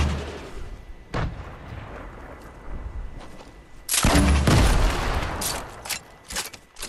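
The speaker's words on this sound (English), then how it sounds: "this grenade launcher is like, look at this. Like, as soon as it hits, it explodes." Grenade launcher in a video game firing with several sharp reports, then a louder burst of blasts partway through, with scattered shots after.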